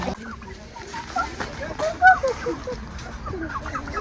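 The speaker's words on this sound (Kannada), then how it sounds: "ಇದು ನಾಟಿ ಕೋಳಿ ಅಲ್ಲ." A non-native chicken at a park petting area gives a few clucks close by, mixed with background voices and general outdoor noise.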